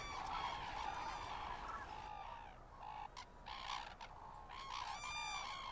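White-naped cranes wintering in the Korean DMZ give repeated loud, clear honking calls in overlapping bursts, several birds calling at once over a steady outdoor background.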